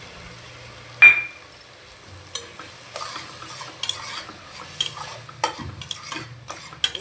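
Mint and green chili paste being sautéed in a pan for pudhina biryani, with a spoon scraping and stirring in irregular bursts, a sharp clink near the start, and a faint sizzle underneath.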